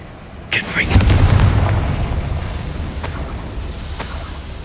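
Confringo fire spell explosion in the video game Hogwarts Legacy, a loud booming blast with a deep rumbling tail that fades slowly, plus a few sharp crackles afterward.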